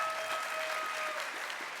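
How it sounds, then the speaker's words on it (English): A keynote crowd at Snowflake Summit 2024 applauds in a soft, even, continuous wash of clapping that sounds somewhat distant, with a faint sustained tone underneath and no talking. "Give it up for Jeff."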